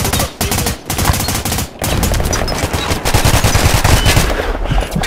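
Rapid automatic gunfire crackles in the online shooter Ballistic. Bursts of loud, dense shots follow one another with only brief gaps, and no talk is heard over them.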